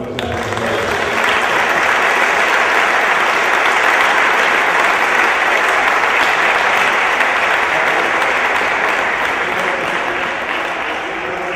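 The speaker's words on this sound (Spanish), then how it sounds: "Pues nada, un aplauso." Sustained audience applause fills a hall after a basketball coaching clinic talk in Valencia, a dense even wash of many hands clapping, loud and steady for over ten seconds without talk.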